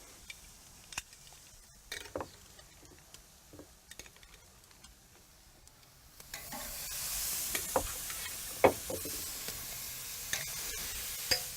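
Steaks and shrimp sizzle on a hot grill set up for two-zone cooking, a scattering of faint ticks giving way after several seconds to a steady, louder hiss with occasional sharp pops, no talking.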